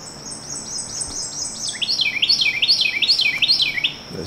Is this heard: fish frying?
no